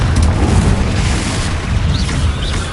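A Confringo fire-blast spell explodes in the Hogwarts Legacy video game, a loud, sustained booming blast with a dense low rumble that holds steady, alone without talk.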